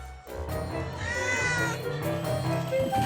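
A cat meows in a long, drawn-out wavering cry close by, over a steady indoor background.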